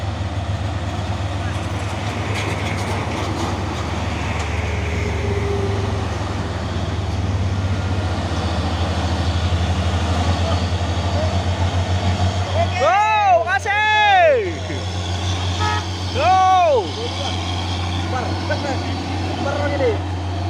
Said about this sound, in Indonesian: 2 unit truk trailer pemain Hino ini ya.